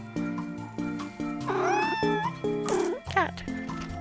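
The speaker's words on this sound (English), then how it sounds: "Cat." A cat in the Minami Lane video game meows twice, clear rising-and-falling cries over cheerful looping background music with a steady beat.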